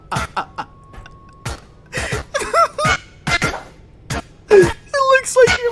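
A person in a comedic R.E.P.O. game session makes a string of short, throaty cough-like bursts with melodic, pitched tones, some rising and sliding like song, loud and close, with brief pauses between them.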